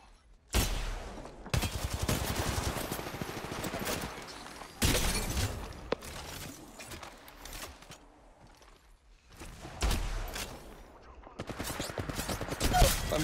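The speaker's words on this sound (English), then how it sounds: "I'm being sniped at." Bursts of gunfire in Apex Legends Mobile, including sniper shots, ring out in loud dense volleys separated by short gaps, with heavy impacts and a mix of close and distant shots.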